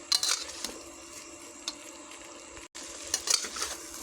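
Prawns going into a pan of frying oil for a kochur loti curry with potatoes, a soft sizzle with scrapes and clinks of a spatula, one brief break, no talk.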